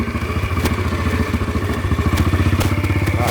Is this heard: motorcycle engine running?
yes